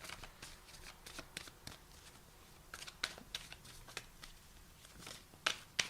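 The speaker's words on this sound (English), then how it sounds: "I keep feeling compelled to keep shuffling these" Tarot cards being shuffled by hand, a steady papery riffle and slide with crisp snaps repeating every fraction of a second, close and fairly quiet over a faint room hiss.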